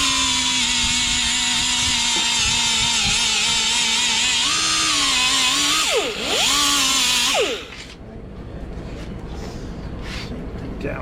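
A whining power tool grinds powder coating off metal near a weld on an engine crane, loud and close, its pitch sagging and surging under load before cutting out and leaving quieter background noise.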